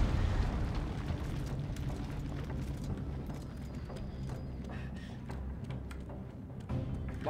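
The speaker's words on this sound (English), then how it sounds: "We'll watch the explosion, of course." Explosion in the Dead Space 3 finale: a deep, rumbling blast with bursts and crackling debris rolls on steadily at moderate volume for several seconds, without speech.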